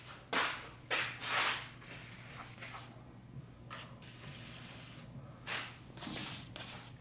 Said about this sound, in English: And we'll go over here, spray some over here.